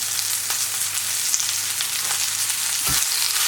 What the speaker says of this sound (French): on cuit 3 minutes jusqu'à ce que les épinards s'abaissent